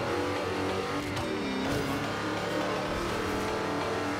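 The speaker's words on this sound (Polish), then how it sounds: "fajnie pierdzi z tyłu, jak zmniejszamy obroty" A 1970 Corvette C3 ZR-1 in Forza Horizon 2 drives with a loud, continuous V8 engine roar and exhaust burble, revs rising and easing off with crackles on lift-off, heard close and alone.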